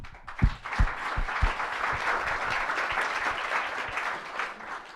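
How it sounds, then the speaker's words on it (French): An audience in a hall applauds with a broad, sustained wash of clapping, a few loud close claps at the start, then even steady applause. "Je crois qu'on peut applaudir Jacques."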